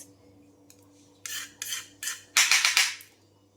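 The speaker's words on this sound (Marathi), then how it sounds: "ही आपल्याला लागणारी मिरची हिरवी ते आपल्याला त्याचं मधून पोट कापायचं आहे" A knife slits green chillies down the middle for a Bihar-style chicken curry, a series of short rasping cuts close by, growing louder and quicker toward the end, with no talking.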